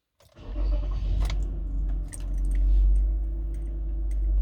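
A car engine starting after an ECU reset: a click and brief cranking, then the engine catches and settles into a steady idle hum, close and moderately loud, with small ticks and rattles.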